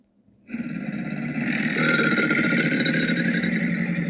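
A deep, rumbling bellow starts after a brief quiet and holds steady and loud, a continuous guttural roar like an alligator's call.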